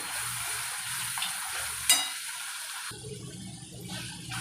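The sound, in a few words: tomato puree frying and being stirred in oil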